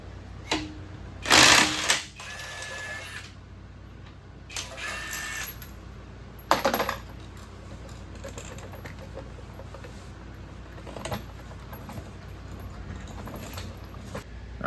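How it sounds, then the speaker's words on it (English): A manual tire machine breaks the tire bead on a Toyota 4Runner wheel, producing a few sharp mechanical clanks and bursts spread across the clip, with quieter handling noise in between. "this is just a manual tire machine we're using to break the bead and put the sensor in"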